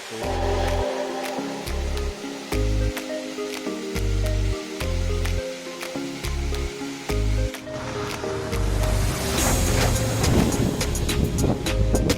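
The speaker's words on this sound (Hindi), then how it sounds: "ये देखिए एक छोटा सा झरना है" A small rain-fed waterfall formed during the monsoon on a hillside gives a steady rushing wash of water. It sits under rhythmic background music and swells louder and fuller toward the end.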